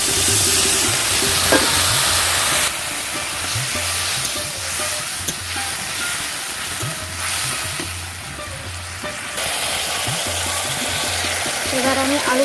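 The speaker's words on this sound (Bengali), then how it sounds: "এরপরে আমি মশলা জলটা দিয়ে দিলাম।" Spice water added to a pan of rui fish curry hisses and sizzles steadily and loudly, with a continuous bubbling roar and occasional stirring clinks, while a person talks over it.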